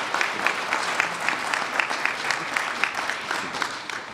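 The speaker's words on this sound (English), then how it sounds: "let's give another round of applause to Under Secretary Kolko" An audience applauds Pennsylvania Governor Tom Wolf as he takes the podium at an Internet for All event, steady clapping with rhythmic peaks lasting throughout, with no voices over it.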